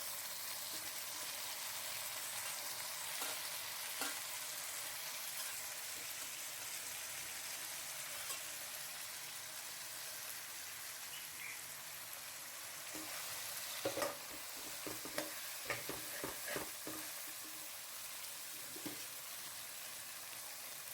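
Boiled country chicken pieces cooking in a kadai for Andhra natu kodi pulusu, a faint, steady sizzle that turns into a cluster of clattering stirring knocks in the later part.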